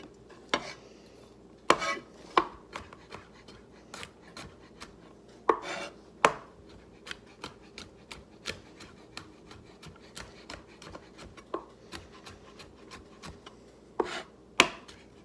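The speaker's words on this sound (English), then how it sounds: "we're going to just mince that up pretty finely" A knife minces shallot finely on a cutting board, giving a long run of quick, sharp chopping taps at an uneven rhythm, some louder strikes standing out, with no talking.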